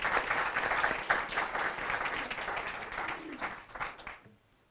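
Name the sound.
audience applause for spelling bee spellers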